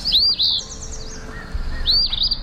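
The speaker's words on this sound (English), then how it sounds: "The eastern phoebe, scientific name Sayornis phoebe, today's Talking Birds featured feathered friend" An eastern phoebe calls twice, each a short burst of high, sweeping chirps, clear and close against a quiet outdoor background.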